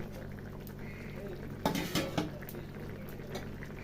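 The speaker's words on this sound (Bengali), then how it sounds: "এইবার আদাটা দিয়ে একটু ফুটিয়ে নেবো" A pot of matar paneer curry with raw ginger water added, a metal utensil clanking against the pot in a short cluster of knocks amid low simmering and kitchen background, no talk.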